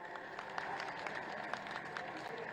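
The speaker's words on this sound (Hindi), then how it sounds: "बहुत जोरदार तालियों के साथ" Applause from a crowd at a centenary ceremony in Varanasi honouring the Uttar Pradesh Chief Minister, a steady, faint wash of many hands clapping at a distance, continuous with no break.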